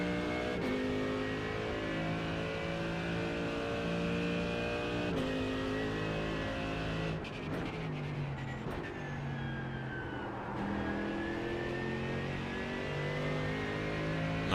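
A race car laps the Nordschleife in a racing video game, its engine howling steadily at high revs. Several gear changes shift the pitch up and down, with no voices over it.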